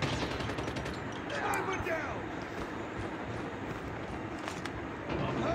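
Sniper rifle fire in the Call of Duty Mobile shooter, sharp repeated gunshots among steady in-game battle noise, with players talking excitedly over the action.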